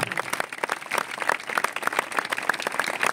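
An audience at a Christian church service claps steadily, a dense patter of many hands close by, sustained throughout without talk.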